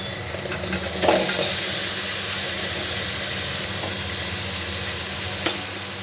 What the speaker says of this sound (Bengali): এবার ম্যারিনেট করে রাখা যে সয়াবিনটা সেটা আমি দিয়ে দেবো।